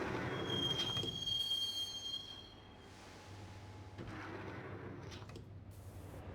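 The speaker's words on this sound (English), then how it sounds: "the train doors had already shut behind me, and I was in for the ride" A subway train in the Max Payne video game rides along its rails, wheels squealing high and thin at first before settling into a muffled, steady rumble with faint clacks, no voices.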